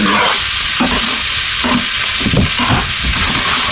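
Loud, steady sizzle of diced vegetables frying in a skillet of oil and butter, with scraping stirring sounds cutting in at regular intervals.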